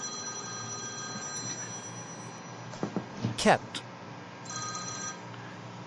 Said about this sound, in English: Sorry, my phone was just interrupting me there, so I thought I'd turn it off.